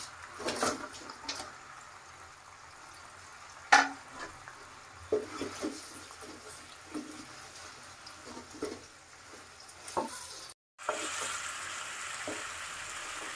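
Chicken pieces for sweet and spicy Korean fried chicken sizzle in a pan, a steady close frying hiss broken by repeated stirring scrapes and clinks, with a brief drop to silence near the end.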